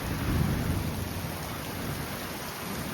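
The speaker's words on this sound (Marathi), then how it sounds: "आता बघा एकदम विजा कडकडत आहे।" Heavy rain in a Konkan thunderstorm, a dense, steady hiss of downpour with a low, rolling rumble of thunder underneath, continuous and loud without any talking.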